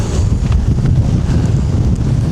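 Strong wind on a Scottish mountain summit buffets the microphone with a loud, constant low roar and gusty rumble, no voices.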